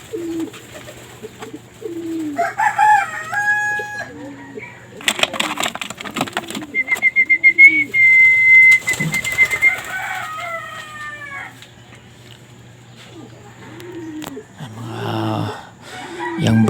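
Young pigeons coo in a loft, soft repeated low coos mixed with brief fluttering and louder bursts of birdsong and scratchy bird calls close by.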